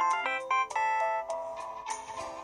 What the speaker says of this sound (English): That was your phone's alert tone.